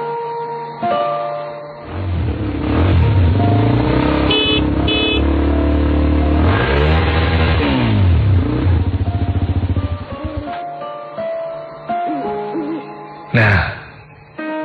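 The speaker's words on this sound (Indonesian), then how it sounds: "Akhirnya ayahku datang dengan motor tuanya." An old motorcycle engine rumbles close by as it arrives at night, its pitch rising and falling as it revs and idles, with a brief horn-like tone near the end.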